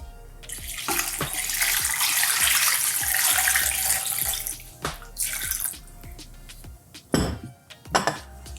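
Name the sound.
water being poured into the soup pot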